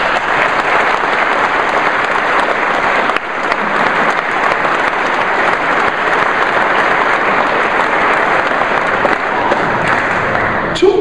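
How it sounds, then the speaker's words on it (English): Loud, sustained applause from a crowd at a press conference introducing Curtis Johnson as Tulane's new head football coach, a dense wash of clapping that holds steady for the whole stretch. "Give those guys a round of applause."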